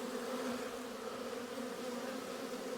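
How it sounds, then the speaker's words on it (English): Bees from a small colony in a vented-bottom hive, open for a spring inspection, buzz in a steady, dense drone. The hum stays continuous and close throughout, with no voices. "Lots and lots of bees there."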